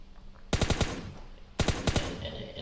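Automatic gunfire from PUBG Mobile while strafing: two rapid bursts of sharp, loud shots, each a quick run of five or six rounds separated by a brief pause, with no talk over them.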